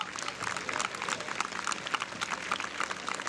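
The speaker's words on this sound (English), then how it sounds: "Please join me in extending a warm welcome to our chief guest. Applause." Crowd applause welcomes the chief guest at a school sports day, a steady, somewhat distant wash of clapping that continues throughout.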